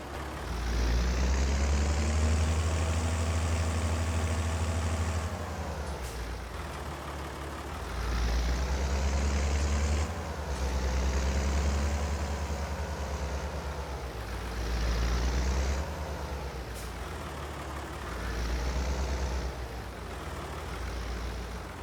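A tractor engine in Farming Simulator 22 drones steadily, its loud, sustained hum swelling and easing in several long surges as the revs rise and fall, with no talking over it.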